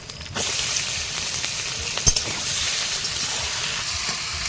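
Chicken dropped into fried onion and whole-spice masala in a pan sets off a sudden loud sizzle that holds steady and hissing, with a single spatula clack partway through and no talking.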